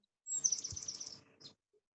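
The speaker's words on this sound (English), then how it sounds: "Yes, just like the bird who just sang." A single bird sings outdoors, one bright, fairly faint chirping phrase lasting just over a second, followed by a brief trailing note, with no talking over it.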